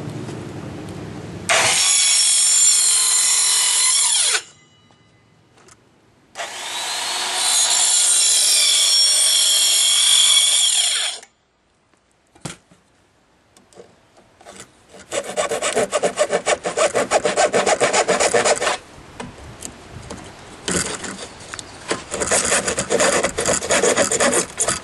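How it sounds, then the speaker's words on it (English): Repeated rasping strokes of a hand plane or similar tool scraping along wood, coming in long loud bursts separated by short pauses, close up. "This will enable me to hold the wood at the proper angle so I can plane it."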